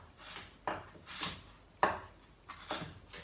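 A knife cuts carrots into thin slices on a cutting board: five separate, unhurried chops with soft thuds and a slight scrape, close and fairly quiet, with no talking.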